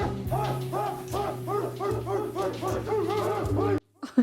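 Voices barking like dogs in a Twin Peaks scene, a human imitation of a dog. About nine rhythmic, evenly spaced barks ring out close and loud over a low steady hum, then cut to near silence with a couple of faint sounds.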